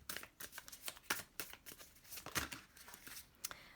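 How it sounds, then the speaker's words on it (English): Tarot cards are shuffled by hand, a quick series of crisp riffling and sliding flicks, close and clear, with no talk. "Let's give it one last shuffle."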